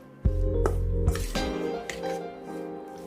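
Curried king prawn marinade with ginger stirred in a bowl: a sharp clink opens it, then a steady scrape and clatter of a utensil against the bowl with a few more knocks, close up, with no talking.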